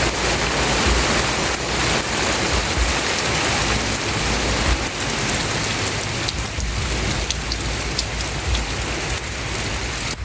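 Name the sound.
heavy rain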